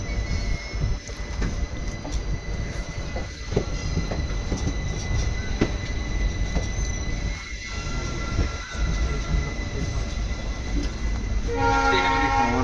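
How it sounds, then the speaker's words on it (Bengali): The 17309 Yesvantpur–Vasco express rumbles along after pulling out of the station, a loud, continuous clatter of wheels and carriages from inside the coach, with a horn-like tone near the end. "ট্রেন যশবন্তপুর স্টেশন ছেড়ে দিল"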